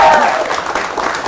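An audience at a live show claps, a dense burst of applause with some crowd noise that stays loud for the short moment, and speech is heard mixed in.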